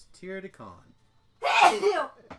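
A single sharp, breathy sneeze bursts out right after a brief snatch of speech, loud and close, in a room where people are talking.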